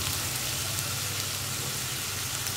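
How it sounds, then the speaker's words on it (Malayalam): Sliced onions sauté with salt in a pan on the stove, cooked only until soft, a steady close hiss and crackle of frying that holds evenly throughout with no voices. "ഇനി ഇതിലേക്ക് നമുക്ക് ആവശ്യത്തിന് ഉപ്പ് ചേർത്ത് നന്നായിട്ട് സവോളയൊന്ന് വഴറ്റിയെടുക്കാം"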